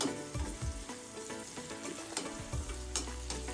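Finely chopped garlic and ginger frying lightly in a pan for chicken chilli, with a soft continuous sizzle and a few scraping stirs from a spatula close by.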